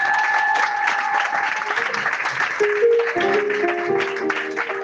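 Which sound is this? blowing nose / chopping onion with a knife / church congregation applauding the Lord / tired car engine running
church congregation applauding the Lord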